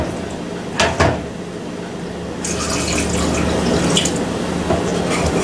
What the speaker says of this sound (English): Now we add water into the mixture of flour and stir well.